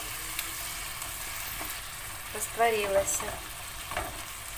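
Okra with tomato and pepper paste stewing in a pan, giving a quiet continuous simmer and sizzle with occasional stirring scrapes as a person speaks briefly.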